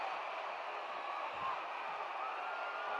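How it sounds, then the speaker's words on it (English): A wrestling crowd roars with sustained applause for Bull Curry at a Houston match, a dense, steady wash of cheering captured on an old, thin-sounding recording. "listen to this tremendous roar of applause given to Bull Curry"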